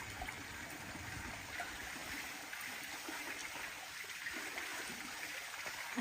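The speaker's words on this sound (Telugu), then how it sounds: "మీకు అక్కడ కనిపిస్తుంది ఎట్లా వాటర్ వస్తున్నాయో." Fresh spring water welling up at the Mallur Sri Hemachala Lakshmi Narasimha Swamy temple, a steady close trickling stream with soft splashes that runs evenly and alone throughout.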